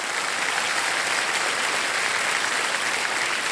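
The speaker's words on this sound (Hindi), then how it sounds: "एक बार जोरदार तालियां बज जाएं।" Studio audience applause on the KBC game show set, steady and loud throughout, a dense continuous clapping without any voices.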